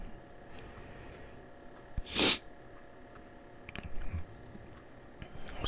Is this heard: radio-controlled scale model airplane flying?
no